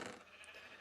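A sheep bleats once in Minecraft Bedrock Edition. The call is short, faint and thin, and it sounds alone over a soft hiss.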